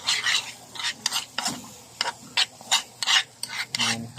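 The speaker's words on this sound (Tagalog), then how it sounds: "Lagyan natin ng suka. I-mix po natin." Fish being stirred with vinegar in a pan for sweet and sour fish, a series of rhythmic scraping, rasping strokes with a faint sizzle underneath, close and fairly loud with no voices.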